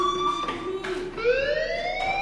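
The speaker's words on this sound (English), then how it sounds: "Hey, do you hear that fire alarm?" A wailing alarm in the video game Life is Strange rises and falls in loud, steady electronic sweeps, sounding close and continuous throughout.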